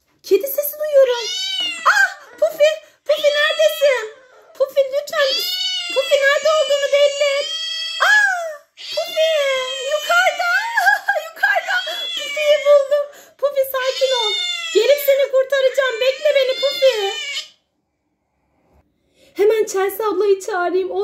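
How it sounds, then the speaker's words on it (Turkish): A cat meows loudly and insistently, long wailing cries following one another with brief gaps, close to the listener. "Kedi sesi duyuyorum."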